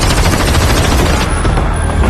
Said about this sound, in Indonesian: Para polisi menembak Jonas.